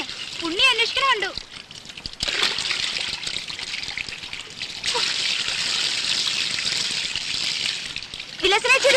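Water trickles and splashes as someone bathes in a domestic scene from a Malayalam film, a steady running pour with brief gaps, while voices are heard at the start and end.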